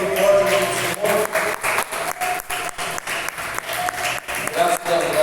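A church congregation claps loudly in bursts, the applause swelling and dipping over several seconds with voices mixed in among the clapping.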